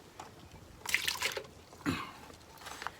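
Water draining out of a plant pot holding a plant and moss: soft trickling and dripping in short splashy bursts, faint and close, with quiet pauses between.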